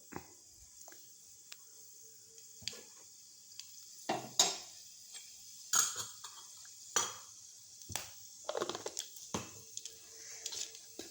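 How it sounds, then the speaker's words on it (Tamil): Mustard seeds sputter and pop in hot oil, scattered sharp crackles and a light sizzle with a few utensil clinks, fairly quiet and without talk. "கடுகு பொரியுது"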